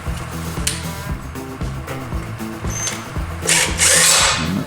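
A power drill drives a screw into the spring of a retractable work light reel, with close, stuttering bursts of motor buzz in short rhythmic pulses, then a brief higher whir near the end.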